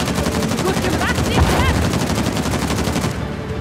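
Continuous heavy gunfire in a firefight in the video game Uncharted: The Lost Legacy, a dense loud rattle of rapid shots throughout, with faint voices underneath.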